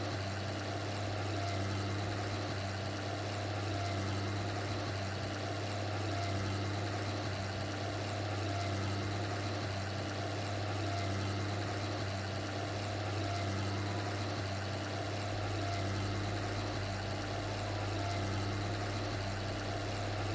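An old CBT tractor engine in Farming Simulator 19 runs in a steady, continuous low drone with a constant hum, loud and alone, with no voices and no change in pitch.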